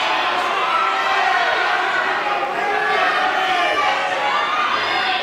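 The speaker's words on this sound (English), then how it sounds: "the crowd are chanting Oscar, Oscar" Boxing match crowd roaring and chanting a fighter's name, a dense continuous wall of voices at steady loudness throughout.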